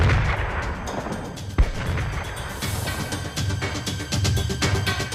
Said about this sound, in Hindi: तभी उन्होंने मोना पर गोली चलाई